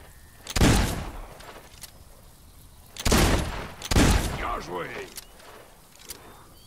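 Gunshots in the video game Fable II ring out as a few loud, booming bursts, one alone and then two close together, with people talking and reacting around them.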